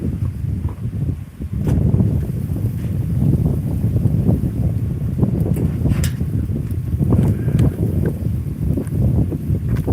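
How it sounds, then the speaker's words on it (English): Strong, cold wind buffets the microphone at a campground on a blustery, rainy day, a continuous loud roar with gusts and occasional knocks, with no voices. "It's windy, so my grill's not being very cooperative and flaming."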